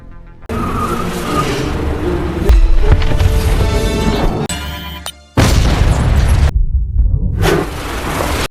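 A car bomb explodes in an action film, with heavy booming blasts, crashing debris and a skidding car during a stunt escape, loud and close throughout with a brief sudden gap before the final burst.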